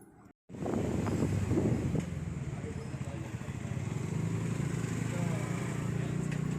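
Strong, gusty wind roars and buffets the microphone outdoors on an evening of Guru Purnima, a loud steady rumble lasting the whole stretch after a brief cut at the start, with a voice faintly audible early on.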